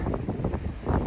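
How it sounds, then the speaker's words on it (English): Strong wind buffets the microphone outdoors in cold weather, with a low rumbling roar that gusts in uneven bursts through the whole moment. "it is really windy out here"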